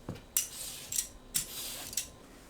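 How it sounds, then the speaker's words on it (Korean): A knife cuts a cucumber into thin strips on a board, giving four crisp, separate chopping strikes at an uneven pace, close and clear with no talking. "오이는 양끝을 손질하고 채 썰어주세요"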